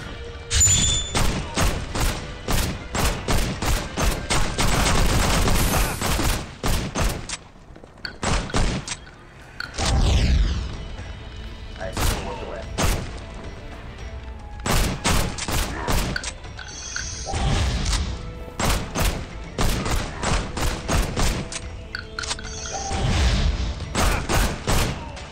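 Pistols fired in rapid gun-kata bursts in the VR game Ancient Amuletor, dense volleys of sharp shots with brief gaps and reload clicks between, loud and close.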